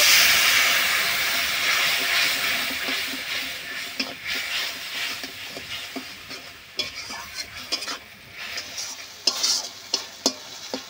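Water from ground mustard paste hits a hot pan with a loud, bright hiss of sizzling and steam that fades over several seconds into softer bubbling, punctuated by sharp clicks and scrapes of stirring toward the end; no voices.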